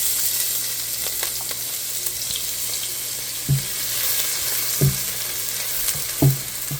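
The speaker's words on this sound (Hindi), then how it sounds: "प्याज डालने के बाद मैं इसको दरमियानी फ्लेम पर ब्राउन होने तक इसको फ्राई करूंगी।" Chopped onions fry in about a third of a cup of hot oil in a pan over a medium flame, a continuous close crackling sizzle broken by a few soft clinks of stirring.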